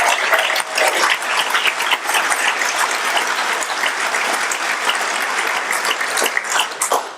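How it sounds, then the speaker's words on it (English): Audience applause at a middle school promotion ceremony, a sustained crowd of hands clapping with uneven swells and individual sharp claps poking through, loud and close throughout with no speech over it. "Let's give them all a round of applause."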